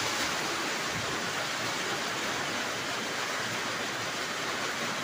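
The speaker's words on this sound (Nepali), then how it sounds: "ल यसमा खतरा पानी पर्छ।" Heavy rain pours outdoors, a dense, loud, unbroken hiss that stays constant throughout with no voices.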